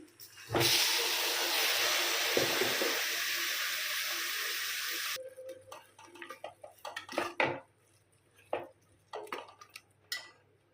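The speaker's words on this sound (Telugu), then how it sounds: "ఈ ఉల్లిపాయలు బ్రౌన్ కలర్ వచ్చే వరకు వేయించుకోవాలి" Onion paste fries in hot oil in a pan for a goat head curry, a loud continuous sizzle for about five seconds that cuts off, followed by scattered clinks and scraping of utensils against the pan.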